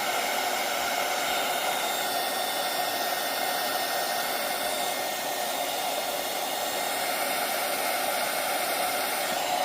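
A hair dryer blowing on paint on a junk-journal tab, a constant loud whooshing hiss running the whole time without pause and with no voices.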